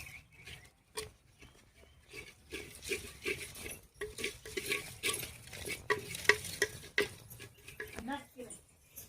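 A spoon stirs turmeric, salt, coriander powder and garam masala in a pan, giving repeated scraping and clinking strokes over a faint sizzle, close and moderately loud.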